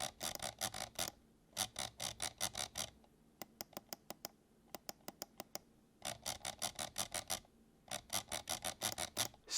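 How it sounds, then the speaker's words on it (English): Optical scroll wheel of a Vaxee Outset gaming mouse being scrolled, close and loud rapid ratcheting clicks in bursts, separated by short pauses, with no talking. "this is one of the loudest mouse wheels I have ever used and really could be improved"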